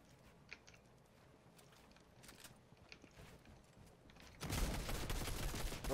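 SMG gunfire in the video game Fortnite: scattered sharp shots over a low game background, then a loud, sustained burst of rapid automatic fire over the last second and a half.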